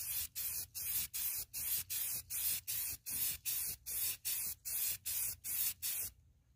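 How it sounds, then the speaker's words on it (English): Short repeated bursts of aerosol spray paint onto a test patch, single-stage jade green paint, about a dozen evenly spaced hisses, close and loud, ending in silence. "I'm also going to just spray a patch right here."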